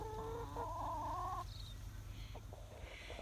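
A hen clucks a few times early on in a sheltered den by an apple orchard, then quieter scratching and rustling sounds follow over a steady low hum.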